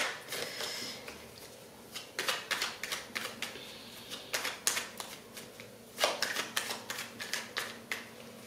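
Tarot cards shuffled by hand, a run of crisp riffling bursts and flutters repeating in quick irregular rhythm, close and fairly quiet, with no voice over them.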